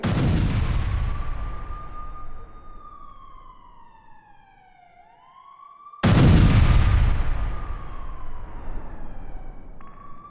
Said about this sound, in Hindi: जहां पर हमास लड़ाकों के ठिकानों का पहले पता लगाया जा रहा है, फिर उस पर बम से प्रहार किया जा रहा है